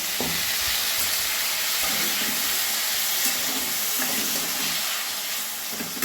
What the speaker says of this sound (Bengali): এবারে কড়াইয়ে সর্ষের তেল, পাঁচফোড়ন, ওটা শুকনো লঙ্কা দিয়ে দিয়েছি, টমেটো দিয়ে দিলাম